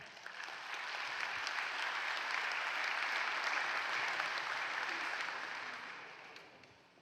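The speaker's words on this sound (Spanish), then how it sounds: "Un aplauso, por favor." Audience at a public library conference panel clapping for an incoming presenter, a full, even burst of applause that rises quickly, holds steady for about six seconds and tapers off, with no talk.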